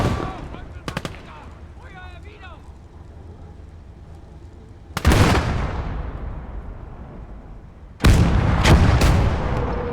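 Artillery and gunfire in the Kampfgruppe war game: a brief rattle of shots, then two loud, close booming blasts several seconds apart, each rolling off in a long rumbling tail.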